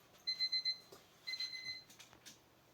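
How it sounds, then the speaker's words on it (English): A daily alarm clock beeps indoors in two bursts of rapid electronic tones, faint and somewhat distant, followed by a few soft handling knocks. "there's my alarm, daily alarm that goes off at this time of day"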